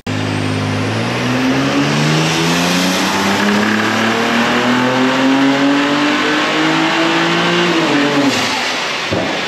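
A turbocharged car engine making about 640 wheel horsepower at 30 PSI revs hard and climbs steadily in pitch for several seconds, loud and close, then drops off near the end.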